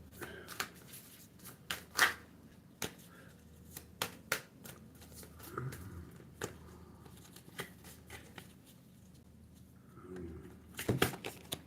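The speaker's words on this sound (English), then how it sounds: "Shuffle these up a bit." Tarot cards being shuffled by hand in soft riffling bursts and taps, close and fairly quiet, with pauses between rounds.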